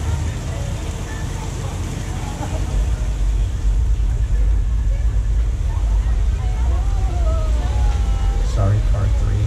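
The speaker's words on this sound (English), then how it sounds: "Here comes a flood." A simulated flood effect on the Universal Studios Hollywood tram tour, with a loud, steady roar of rushing water that swells after a couple of seconds and continues, while people on the tram talk and shout underneath.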